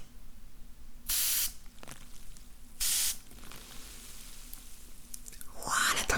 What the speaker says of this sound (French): on voit un peu des gens mettre un pulvérisateur d'eau et voir le bruit incroyable que ça fait